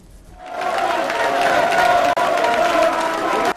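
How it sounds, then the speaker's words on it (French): A crowd at a presidential party gathering in the Democratic Republic of the Congo applauding and cheering, a loud, sustained roar of clapping and voices that swells in quickly and holds steady. "C'est sous les applaudissements frénétiques que l'autorité des référents du parti présidentiel a été accueillie"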